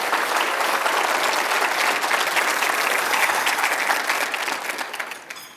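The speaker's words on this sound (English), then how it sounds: "Let's give them a round of applause." Steady, dense applause from a sizeable audience at a city update meeting, loud and sustained throughout before tapering slightly at the end.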